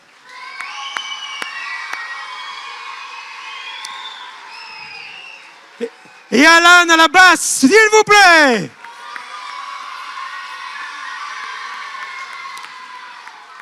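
A live concert audience bursts into loud cheering, whooping and applause for a couple of seconds as a band member is introduced, with an announcer talking over the hall before and after.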